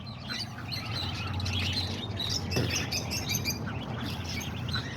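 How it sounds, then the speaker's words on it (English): Caged pigeons at a home animal enclosure, with a busy chorus of bird chirps and calls close by and one sharp squawk midway. "Let's go check out the pigeons."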